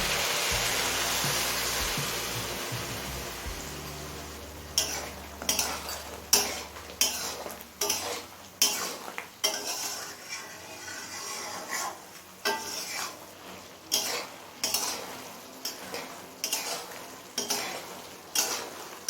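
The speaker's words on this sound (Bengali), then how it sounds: "জল দিয়ে আবারও নেড়ে করে সব কিছু মিশিয়ে নিয়েছি" Loti chicken being stirred in a pot after a splash of water is added: a run of sharp metallic spoon scrapes and clinks against the pot, fairly close, irregular but steady, with a soft sizzle underneath and no talking.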